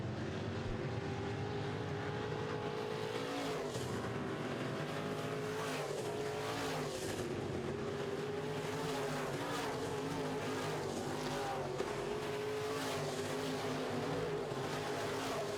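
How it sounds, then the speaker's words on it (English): Midwest Modified race cars roar around a track during a feature race, a continuous loud blend of engines with rising and falling revs from the passing pack. "Austin Hunter now in the 44 car working his way through the pack nicely."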